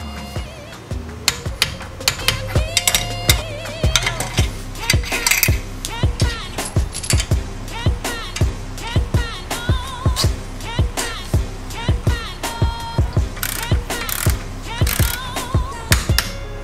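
A torque wrench tightens nuts to 30 foot-pounds on a Porsche 996 Turbo, giving rapid runs of crisp ratcheting clicks close up, repeated in a steady rhythm of bursts throughout.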